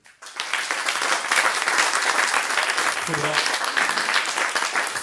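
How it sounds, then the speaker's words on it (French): A theater audience breaks into applause, swelling quickly from near silence into loud, dense clapping from many hands that continues steadily, with a few voices faintly mixed in. "vous pouvez, cher public, vous applaudir"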